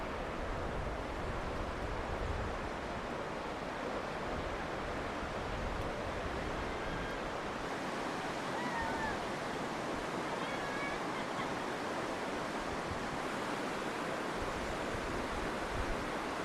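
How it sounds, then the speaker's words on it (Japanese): Rapids of the Kinugawa River surging around large boulders, heard from a high suspension bridge about 40 metres above. The rushing water is a steady, dense roar that continues unbroken throughout. "大岩を縫うように流れる鬼怒川の急流"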